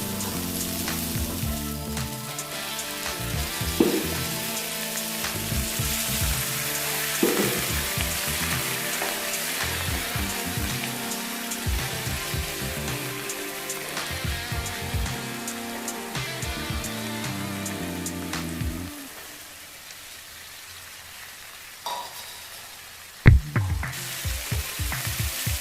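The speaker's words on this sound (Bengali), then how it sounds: "এখন আমি টমেটোগুলোকে দিয়ে দিচ্ছি। টমেটোগুলো একটু ভাজা হয়ে এলে তার মধ্যেই আমি আলুগুলোকে দিয়ে দেবো।" Tomatoes fry in a pan for a Bengali rohu fish curry with potatoes, a steady close sizzle with stirring scrapes that drops quieter near the end, broken by a sharp clatter.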